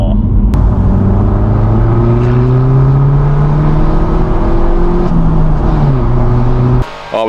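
A BMW 1 Series fitted with a Maxton Design front splitter drives along, its engine droning loud and steady with rising and falling pitch sweeps as it accelerates and shifts, cutting off abruptly near the end.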